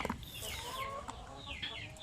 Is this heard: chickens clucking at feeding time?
yes